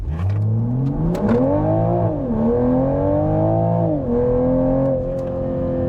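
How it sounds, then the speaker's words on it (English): A 2021 Toyota Supra 3.0 Premium launching from 0 to 60 in sport mode, its engine note climbing steadily in pitch through the gears with brief dips at each shift, loud and close throughout. "I'll show you guys a quick launch here. 0 to 60, I won't turn on launch control, but just here with sport mode on"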